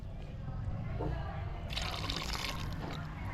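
Water pours into a pan of prawn tomato curry, a soft continuous trickle and splash that swells partway through, quiet and close with no talking.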